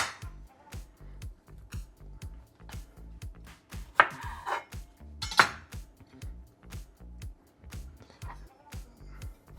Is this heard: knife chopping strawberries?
yes